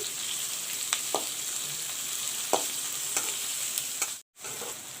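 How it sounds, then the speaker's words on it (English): Onions fry in a pan, sizzling in a steady, fairly loud crackle while a spoon now and then stirs and scrapes, until a brief drop to silence near the end, with no talk. "I will let the onions fry first. Let the onions turn golden brown."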